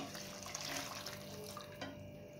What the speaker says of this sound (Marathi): आता यामध्ये आपण गरम करून घेतलेलं पाणी ऍड करायचंय